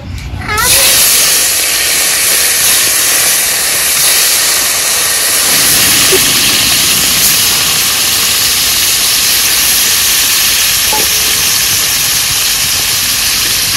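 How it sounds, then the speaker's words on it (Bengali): Shol fish frying in oil in a wok, cooked with sour mango; a loud, continuous close-up hiss of sizzling oil that begins abruptly and holds steady throughout, with no talking. "এবার মাছ ভাজার জন্য কড়াইয়ে তেল দিয়ে দেবো।"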